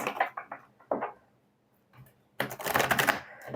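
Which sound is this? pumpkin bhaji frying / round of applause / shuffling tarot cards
shuffling tarot cards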